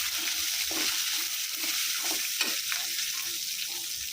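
Curry leaves and spices dropped into hot oil for a Coimbatore horsegram thokku, giving a bright, steady crackling sizzle with small spits and pops, close up and continuous, no talk.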